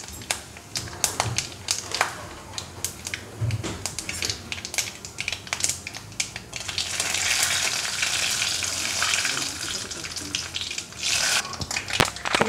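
Mustard seeds and curry leaves fry in hot oil for a Kerala nenthrakkaya erissery curry, crackling and popping in sharp bursts that build into a dense, close sizzle.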